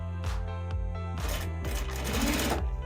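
A sewing machine topstitches a tote bag in a few short, quick bursts of rapid needle clatter with brief pauses between, close up and fairly quiet.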